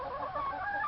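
Molting chickens eating corn, heard as faint, continuous clucking and low fowl chatter at a distance.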